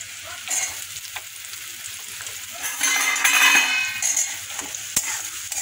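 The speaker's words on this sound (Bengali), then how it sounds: "আলুগুলো দিয়ে একটু ভাজা ভাজা করবো, তারপরে মশলাগুলো দেবো।" Potatoes and onion frying in a pan, a steady sizzle with scraping stir strokes that swell louder midway, no talking.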